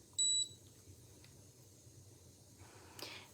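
A short, bright electronic beep from a facial toning device near the start, then quiet hum with a faint click and a soft rustle near the end.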